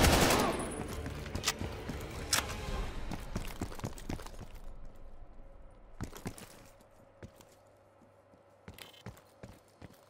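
Gunfire in the video game Call of Duty: Black Ops Cold War, with a dense burst of sharp, loud shots early on, then scattered single cracks and short volleys fading to quieter, sparser reports near the end.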